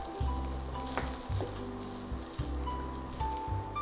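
Chopped capsicum sizzles and crackles steadily in oil in a pan, with a few clinks and stirring knocks over the frying.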